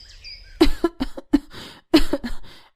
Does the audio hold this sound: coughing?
yes